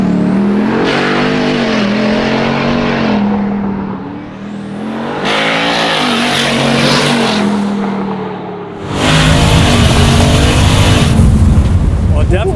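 A twin-turbo Ford Raptor making 1,250 hp launches hard and spins all four wheels, its engine roaring loud and close with surging revs and a harsh burst of tire noise near the end.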